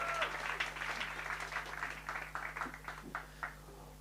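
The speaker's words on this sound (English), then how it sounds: "Let's give our online audience one more time a round of applause" A live audience at a sales workshop and expo in Gugulethu applauds, a fairly faint, steady patter of many clapping hands lasting throughout, with scattered louder claps and a low hum underneath.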